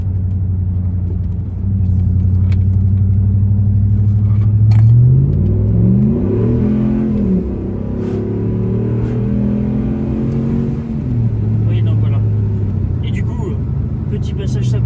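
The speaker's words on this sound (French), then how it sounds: "Petit passage sympathique avec le doux bruit du V8." Dodge RAM pickup with a V8 engine, a deep rumbling idle that swells into a revving pass and settles back to a steady burble, loud and close throughout.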